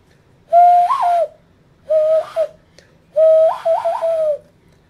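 A man imitates an owl call with his voice, giving three hooting, whistle-like phrases separated by short pauses, loud and close in a quiet room.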